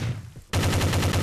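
Rapid automatic gunfire from a mobile first-person shooter resembling Counter-Strike bursts in abruptly after a brief quiet, loud and close, with steady rapid shots continuing to the end.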